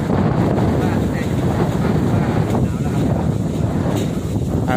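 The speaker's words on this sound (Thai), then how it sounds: "โอ้ลมไหมลมแรง" Strong wind buffets the microphone in a continuous roar on a cold early-winter day outdoors, loud and steady throughout with faint talk partly buried beneath it.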